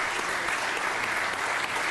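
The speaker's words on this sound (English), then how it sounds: "a round of applause that she" Steady applause from people in a city council chamber welcoming new member Nury Martinez, a dense even wash of clapping throughout with no talk over it.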